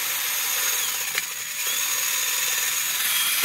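Battery-powered auger boring into garden soil while planting hyacinth beans, a loud steady motor whine with grinding at close range that falters briefly as it catches on something buried; no talking.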